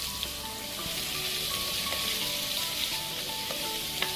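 Chopped onions sautéing in a pan with salt and whole spices such as cinnamon sticks, bay leaves and cloves, giving a continuous close hissing sizzle with light stirring clicks and no talking.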